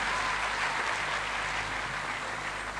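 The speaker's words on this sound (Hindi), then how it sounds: "सभी लोग एक साथ भारी तालियों के साथ स्वागत कीजिए मिस्टर अतुल सर का" Audience at a large teaching seminar bursts into sustained applause to welcome a guest, a dense, loud wash of clapping from start to finish.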